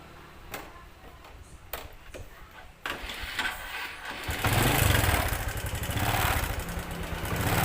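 A manual-transmission motorcycle engine is started: a few quiet clicks first, then the starter engages and the engine catches, settling into a loud, close, rumbling idle.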